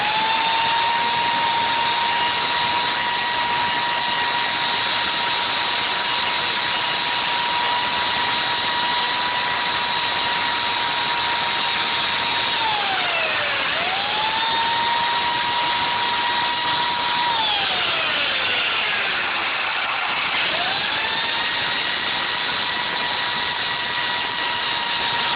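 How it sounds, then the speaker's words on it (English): A chainsaw roughens the surface of a foam fake rock, running as a steady, loud drone that dips in pitch twice as the blade bites into the foam, with no talking. "I'll also use a chainsaw to roughen the area up and give it some texture."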